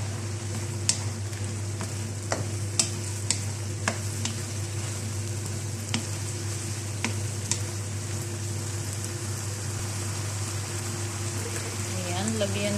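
Chicken liver adobo sizzles steadily in a frying pan, with scattered clicks of a utensil stirring through it, close and continuous with a faint hum underneath.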